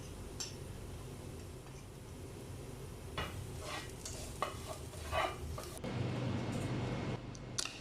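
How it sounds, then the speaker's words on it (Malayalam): Onions frying in oil left over from frying potatoes, with paprika powder mixed in, stirred in a pan: a steady close sizzle broken by scraping and clinking of the spoon against the pan, getting louder near the end. "ഇനി നമുക്ക് പൊട്ടറ്റോസ് ഫ്രൈ ചെയ്ത അതേ ഓയിലിൽ ഉള്ളി ഫ്രൈ ചെയ്തെടുക്കാം."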